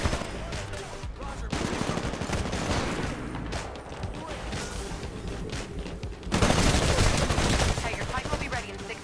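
Light machine gun fire in the video game Titanfall: dense, sustained bursts of rapid automatic shots that swell louder partway through, with a voice talking faintly underneath.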